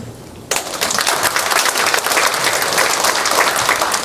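Loud, dense applause erupts from a church assembly audience at a Korean Presbyterian general assembly candidates' policy debate, starting abruptly after a quiet half-second and sustaining steadily to the end.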